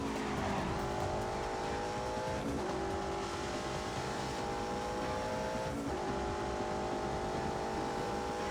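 A race car in The Grand Tour Game video game roars under braking, its engine note dropping and climbing again between gear shifts, loud and continuous with a broad hiss of road noise.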